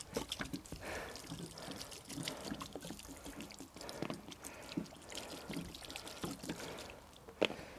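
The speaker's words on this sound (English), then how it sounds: "Full water butt here that I've just dropped onto them." Water pours from a full water butt onto rugged phones, splashing and trickling unevenly for several seconds with scattered drips and slaps, heard outdoors with no talking.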